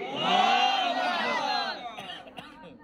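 A large religious gathering at a Bogura tafsir sermon roars a loud, unified chant in response to the cry of Naraye Takbir, many voices swelling together for about two seconds before fading into scattered murmurs.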